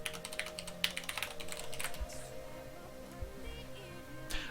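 A computer keyboard clatters with quick irregular keystrokes as a password is typed, close and moderately loud, in short bursts with brief pauses, over a faint steady electronic hum.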